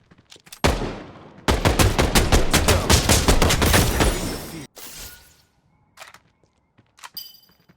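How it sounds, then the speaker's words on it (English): Rapid bursts of gunfire from Final Fantasy VII: The First Soldier with a sharp, synthetic game-like quality, a long sustained volley followed by a few scattered single shots and brief quiet gaps. "The guns, I have to admit, sound nice too."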